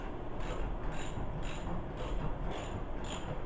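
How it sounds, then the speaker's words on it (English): Socket ratchet clicking in about six even bursts while a bolt on an adult tricycle is tightened, a quiet rapid pawl chatter repeating close by with no talk. "what you're going to do is just tighten up one side"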